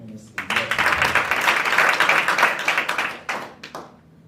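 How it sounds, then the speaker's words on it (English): An audience at the launch of a national security association claps, building from scattered hits into a dense, loud burst of applause that thins into a few separate claps before fading. "Clap hands for this MNSA."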